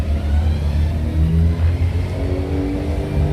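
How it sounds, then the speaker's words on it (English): An old Honda car engine revs nearby, the motor rising and falling in a few throaty pulses over a steady idle rumble, with no talk over it. "We got an old Honda here."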